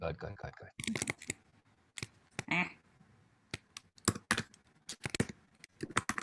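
Quick typing on a computer keyboard in irregular bursts of sharp, close key clicks with short pauses between, and a brief vocal sound breaks in partway.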